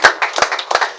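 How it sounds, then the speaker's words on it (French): A few separate hand claps from a small gathering at a reunion of former schoolmates, three or four distinct claps close by with gaps between them. "Mais on ne peut pas applaudir pour nos frères."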